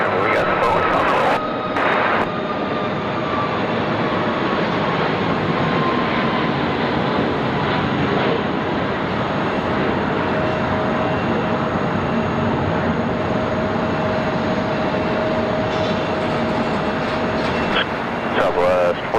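A Boeing 737-800 rolls down the runway on takeoff, its jet engines a loud, sustained roar close by that holds steady throughout, with faint radio chatter at the start.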